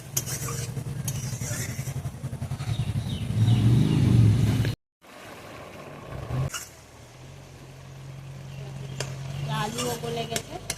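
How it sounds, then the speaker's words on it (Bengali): Water is poured into a sizzling pan of potato and jackfruit seed curry, with a loud hiss and a bubbling surge followed by a steady simmering sizzle. A voice speaks over it. "এখন সামান্য জল দিয়ে দেবো"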